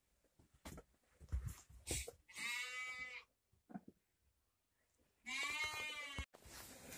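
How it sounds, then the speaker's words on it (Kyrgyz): Hissar lambs and rams bleat in two long, loud, wavering calls close to the microphone, with scattered clicks, thumps and brief farm-yard noises in between. "Кисар козу кочкорлордун."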